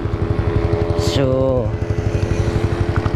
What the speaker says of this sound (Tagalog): kaya dito na natin susubukan ang ating motor